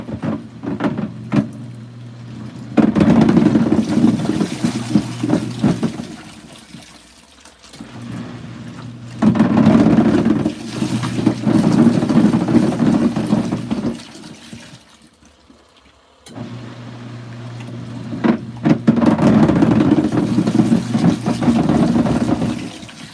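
Water surges and churns through an LG ThinQ MEGA Ultimate washer during a powerful filtration rinse with a cape inside, coming in three loud bursts of several seconds each, separated by brief quieter pauses.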